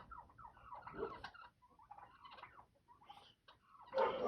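Guinea fowl calling loudly outdoors in harsh, rapid bursts of chattering cries, several separate outbursts with short pauses between, ending in a loud burst.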